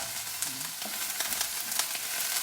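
Beef and broccoli with oyster sauce sizzling in a hot stir-fry pan, a steady dense hiss running without a break, with faint clinks and scrapes of stirring mixed in.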